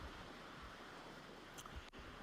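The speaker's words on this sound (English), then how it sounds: "It's super windy in Albuquerque" Strong gusting wind buffets the microphone outdoors in Albuquerque, a continuous loud low rumble with a few brief surges and a short dip near the end, no voices.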